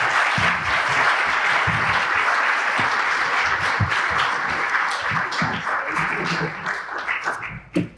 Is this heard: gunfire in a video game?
no